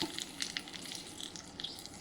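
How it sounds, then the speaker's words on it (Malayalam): Mustard seeds crackle and pop in hot coconut oil with a green chilli, a steady close sizzle broken by quick sharp pops scattered throughout. "കടുക് പൊട്ടി ഇളക്കുക"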